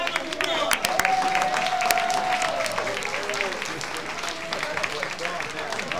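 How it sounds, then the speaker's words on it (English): Audience applause at a newspaper anniversary breakfast, a sustained wave of clapping from a crowd of guests that holds steady throughout, with scattered voices and a brief cheer mixed in. "give them a round of applause"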